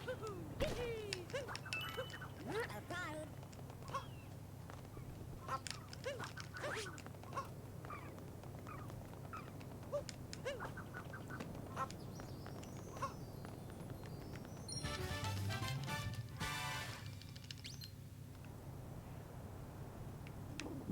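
Bird calls from Super Mario Odyssey, a series of short chirps and caws scattered over a steady game background hum, with a denser burst of sound partway through; a voice speaks faintly at times.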